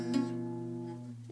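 A bar chord strummed once on guitar, its full, ringing tone sustaining and slowly fading over a second, with a faint new touch on the strings right at the end.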